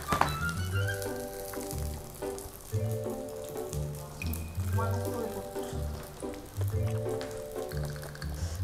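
Cipuk snacks frying in hot oil in a home kitchen, a steady crackling sizzle that continues throughout, close by, with tonal music and voices layered over it.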